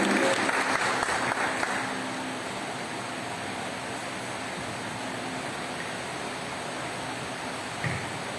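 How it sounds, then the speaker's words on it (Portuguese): A church congregation at a Wednesday evening service applauds, a dense hiss of clapping that is loudest at first and then settles into a softer, steady patter for several seconds. "Aplauda o Senhor pela vida dele"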